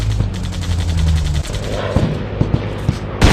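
Gunfire in the Commando shooting game comes in loud, rapid bursts of shots with a low rumble underneath, then sparser individual reports.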